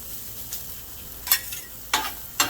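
Chopped onion and serrano pepper fry on a 22-inch Blackstone griddle: a soft steady sizzle broken by several sharp scraping strokes of a spatula, close by, with no talking.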